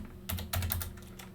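Keys on a computer keyboard tapped in a quick irregular burst of clicks, close and fairly soft, with short gaps between strokes and no voices.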